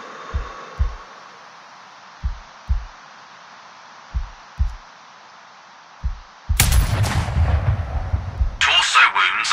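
Sniper rifle fire at a practice target in Sniper Ghost Warrior Contracts: a series of low, muffled thumps spaced a second or two apart, then a sharp, loud crack with a ringing tail and a second bright burst near the end.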